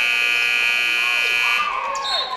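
A loud, steady electronic buzzer from the game clock sounds at a girls' high school basketball game, holding for about a second and a half before crowd voices and talk take over as it cuts off.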